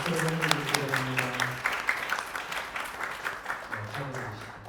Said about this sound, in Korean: 오늘 같이 예배하시는 분들 박수로 보내드리겠습니다.